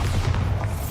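A Bombarda spell explosion in a Harry Potter video game, a dense low rumbling boom that stays loud and sustained through its brief second with no talk over it.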